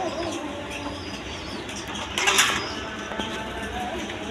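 Tulip pigeons at a pigeon sale, with soft cooing and brief wing flaps over a constant noisy background, including a louder flutter midway.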